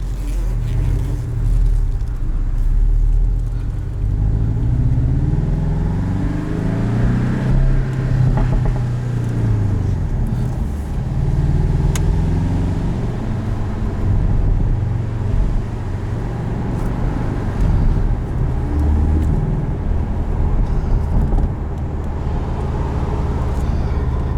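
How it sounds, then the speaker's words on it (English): Wind roars in the open cabin of a 2017 Porsche 718 Boxster S with a manual gearbox, driven with the top down. A loud, steady low rumble of wind buffeting and road noise holds throughout. "I can already tell the wind's gonna be bad."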